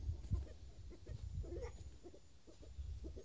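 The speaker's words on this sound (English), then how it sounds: "We've got the Rhode Island Red there making a lot of noise." A Rhode Island Red chicken clucks and squawks repeatedly in bursts against a noisy outdoor background with ducks nearby, fairly close.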